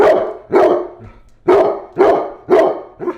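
A dog barks loudly and close by, six sharp barks in a steady rhythm about half a second apart.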